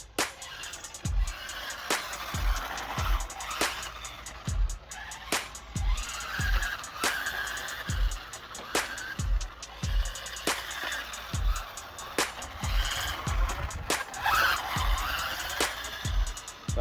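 A 1/16 scale UDI RC car drives and skids, its small motor whining in short bursts with sharp repeated clicks and scrapes throughout, close and fairly loud, with no talking.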